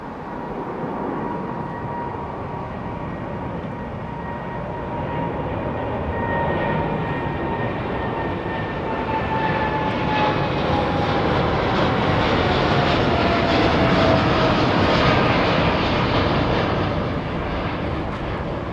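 Boeing Dreamliner with an all-carbon wing departing Heathrow Airport, its deep jet engine roar building steadily and staying loud and continuous as it climbs away.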